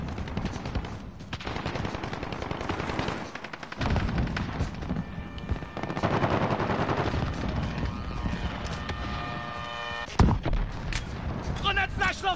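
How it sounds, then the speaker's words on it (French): Flash grenade thrown during a shooter video game round: dense, loud gunfire and explosive blasts fill the scene continuously, with a sharp bang near the end followed by ringing, metallic tones. "Grenade flash lancée."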